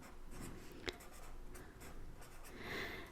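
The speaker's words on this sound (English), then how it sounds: "you can write this on the side of your paper" Soft pencil scratching on paper while working a math problem, a faint continuous scribble with one sharp tap partway through, close and quiet with no voice over it.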